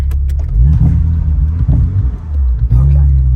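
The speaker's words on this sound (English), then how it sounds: "when you hear an engine like that, how can you not?" Porsche Boxster engine heard from inside the car, deep rumbling revs that rise and dip in a few surges over a few seconds, close and loud with a voice mixed in.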